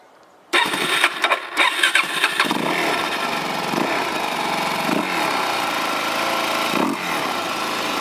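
A motorcycle engine cranks and fires up abruptly, sputtering for a moment before settling into a loud, steady idle close by.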